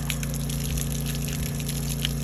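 Water splashing and gushing from a deep well pump at a homestead, a steady close rush of liquid over a low mechanical hum.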